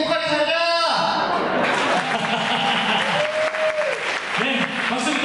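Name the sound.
applause at a wedding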